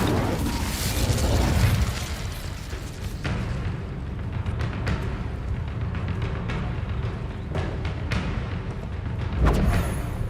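Fire spell cast in the Hogwarts Legacy video game, a loud whooshing burst amid continuous combat noise and impacts, with repeated bangs and pops through a dense game soundscape.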